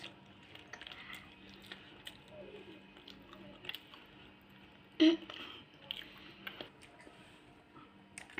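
Bread, chicken and cheese pizza being chewed close up, with soft wet squishing bites repeating over several seconds and a sharper, louder bite partway through.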